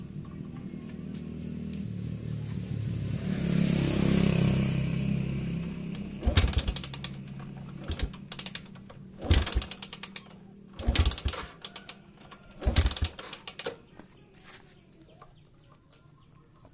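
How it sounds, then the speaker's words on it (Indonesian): A Yamaha Jupiter MX motorcycle is kicked over with the ignition switched off, giving several separate mechanical thumping bursts at uneven intervals after a low rumble, close to the listener in a quiet workshop. "kita coba engkol tanpa kontak di-on-kan"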